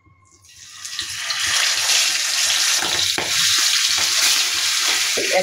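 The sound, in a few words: rupchanda (pomfret) fish frying in hot oil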